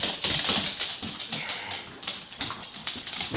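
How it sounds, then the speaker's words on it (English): A dog whimpers in a rapid series of thin, high whines and scrabbling noises, close and fairly loud against a noisy background, with no talking. "That's my stupid dog."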